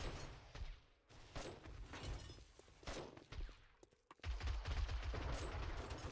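Rockets fired in the video game 7 Days to Die during a winter base defense, a string of sharp blasts and crackling gunfire bursts that build into a loud, sustained rumble of explosions near the end.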